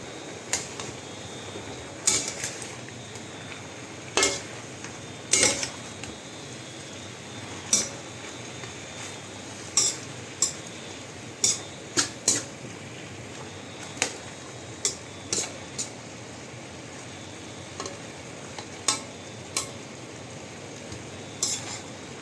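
A spoon scraping and clinking against a pan while stirring a bell pepper dish, sharp metallic taps scattered irregularly over a quiet low background, no voices.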